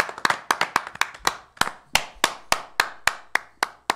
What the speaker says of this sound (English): Can we just take a moment and give Jenna a round of applause?